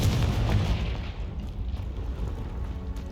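A Confringo spell blasts in Hogwarts Legacy, a dense booming explosion up close with a heavy low rumble that fades over a few seconds.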